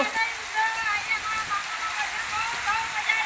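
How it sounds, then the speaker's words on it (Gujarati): Heavy rain comes down hard in Patan, a continuous rushing downpour at close range with a steady, slightly fluctuating roar. "બહુ વધી ગયો છે વરસાદ"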